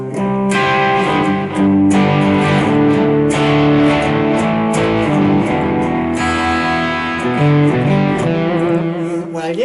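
Electric guitar played through a BOSS eBand JS-10 with reverb and delay on and the phaser off: sustained, layered chords and notes ring continuously for about ten seconds, loud and close, with no talking.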